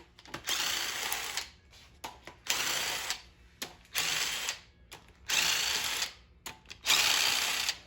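A ratchet wrench loosening cylinder head bolts on an LS engine during teardown, heard as bursts of rapid clicking ratcheting, each a second or so long, separated by short pauses, close and loud with no speech.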